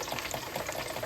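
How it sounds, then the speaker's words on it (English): Potatoes in a deep fryer for an all-day breakfast, giving a steady close hiss and crackle of hot oil bubbling with no voices. "I just use the fryer because it's quicker."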